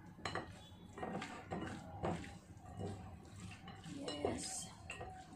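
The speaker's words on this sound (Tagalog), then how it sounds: "tapos halo-haloy na po natin. Lagyan po natin ng kunting salt. Ayan. Then mix together." Ingredients for salted dinakdakan are mixed in a bowl, giving soft clattering and scraping of a utensil against the dish in irregular bursts, fairly faint and close.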